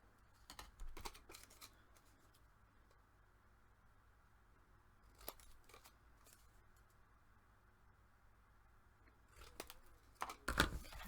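Scissors snip and taper a paper craft piece, cutting just short of the corner, in a few brief, quiet bursts of close clicking cuts separated by long near-silent pauses.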